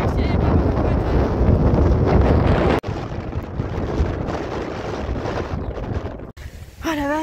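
Strong wind buffets a microphone in a heavy, roaring rush along a road between Troia and Lucera, Italy, that drops out briefly, followed near the end by a faint voice.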